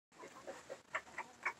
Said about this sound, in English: I'm going to go check on the baby chickens.